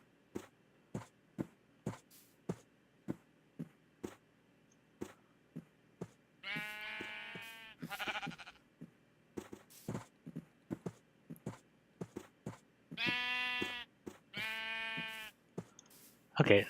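Sheep in the video game Minecraft bleating in several short wavering calls, set among regular footstep-like clicks, with someone talking at times between the bleats.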